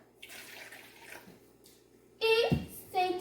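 Water poured into a cooking pot, 150 ml measured out for a Minas Gerais recipe, gives a short bright splashing burst of pouring after quiet, faint kitchen sounds.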